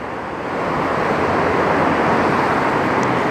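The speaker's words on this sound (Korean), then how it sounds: "터널에선 소리가 좀 자동차 소리가 시끄럽게 나기 때문에" Loud, steady car traffic roar inside a road tunnel, a dense continuous rushing wash of engine and tire noise that swells in over the first half second and stays heavy throughout.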